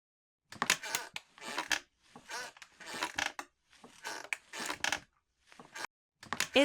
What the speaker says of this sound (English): It's a porch swing, swaying back and forth on a warm July day.